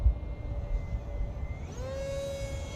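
A Mini Explorer RC model airplane at about 80% scale makes low passes, its steady electric motor whine rising in pitch as it sweeps by near and fairly loud, with no voices.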